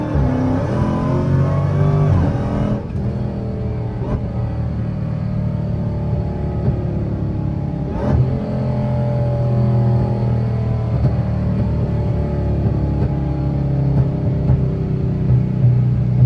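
A Dodge Hellcat, untuned, sits running at night as its engine is revved hard in a short test hit, a loud continuous rumble with a rising rev near the start and another sharp burst midway, heard alone without voices.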